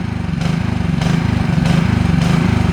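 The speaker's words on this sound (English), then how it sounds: "there goes the generator about to run out of fuel." A generator engine runs loud and close in a backyard, its rough drone surging and dipping in a regular pulsing rhythm as it nears running out of fuel.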